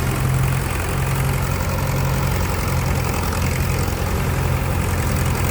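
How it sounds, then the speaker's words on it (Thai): A vintage 1970s rice threshing machine engine runs steadily, a dense low rumble with a mechanical clatter and broadband noise throughout, close and loud, with no voices heard. "เรียกว่ารถนวดข้าวยุค70สุดๆไป เลย ครับ"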